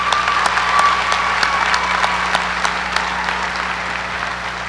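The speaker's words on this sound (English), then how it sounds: "So can we give Philip and this class a round of applause?" A crowd applauds a speaker and the graduating class at a senior high school graduation ceremony, sustained clapping in a large space, with a few individual claps standing out, steady throughout.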